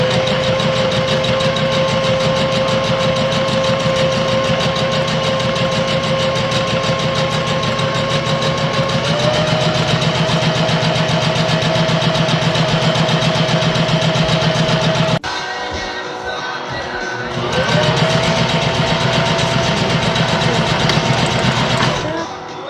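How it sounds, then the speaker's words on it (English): A sewing machine stitches fabric for a tote bag, its motor giving a steady, loud whir that shifts pitch slightly, stops briefly for about two seconds, then runs on again. "You just drop the pressure foot down on the fabric, do a couple stitches, backtrack, sew straight down, and then finish off the stitch."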